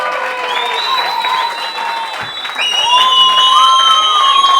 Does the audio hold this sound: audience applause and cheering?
yes